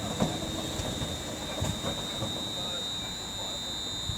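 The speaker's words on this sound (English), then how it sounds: "leading in the 1358 London Northwestern Railway service to Birmingham New Street from Liverpool Lime Street." A Class 350 unit, 350259, pulls into Wolverhampton on the West Coast Main Line, leading the 13:58 London Northwestern Railway service from Liverpool Lime Street to Birmingham New Street. A steady close rumble carries a thin high whine and faint wheel squeal throughout.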